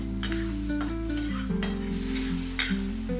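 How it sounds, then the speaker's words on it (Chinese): Shredded pork being stir-fried with sauce in a wok for Sichuan fish-flavored pork, with steady scraping and tossing over a continuous sizzle, a few sharper clanks of the spatula against the metal, close and loud with no talking. "沿锅边淋入调配好的料汁。 快速翻炒"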